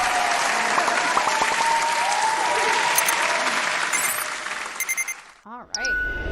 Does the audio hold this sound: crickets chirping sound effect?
no